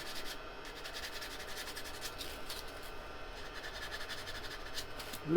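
A hand rubs a freshly turned wood piece in a woodturning workshop. The rubbing is a steady, continuous, fairly quiet swishing friction that runs unbroken for about five seconds.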